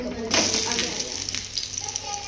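Steady sizzling of vadis frying on a flat griddle, loud and close, with a burst of hissing near the start.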